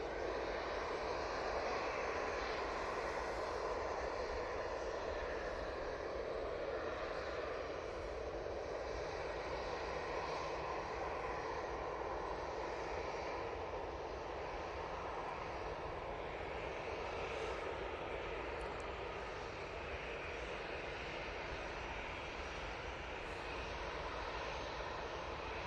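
EasyJet Airbus A321neo spooling up at Manchester Airport, a faint, distant steady engine drone with a soft whine, continuous and without speech.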